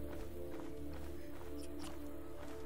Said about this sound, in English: Sometimes it sounds like my footsteps are somebody behind me.